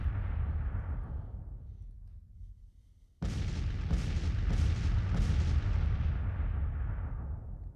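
Batteries of Napoleon cannons bombard in the Civil War strategy game Grand Tactician, a low rumbling roar fading before a sudden loud boom, then several overlapping heavy shots rolling into a sustained thunder of gunfire.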